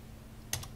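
A short burst of computer keyboard typing, two quick key presses close together, sounds during play of The Crew racing game against quiet background noise.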